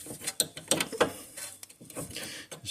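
A ratchet wrench clicks in quick uneven bursts while a nut is run off a Jeep Grand Cherokee ball joint stud, close and fairly quiet, with short pauses between strokes.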